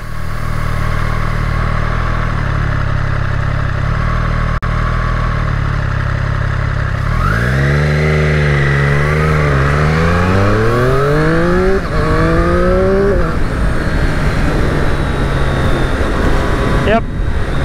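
A 2020 Triumph Street Triple RS motorcycle on the road, engine droning steadily, then revving hard through several rising gear-change sweeps as it accelerates, loud and close with rider talk over it.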